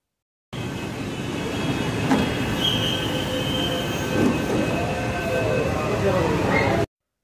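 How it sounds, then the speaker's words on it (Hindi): A Pune Metro train rumbles steadily and loudly with squealing wheels and faint clicking, sustained throughout as it arrives close by. "तो चलिए हमारी ट्रेन आ गई है और अभी हम एंटर करते हैं पुणे मेट्रो में।"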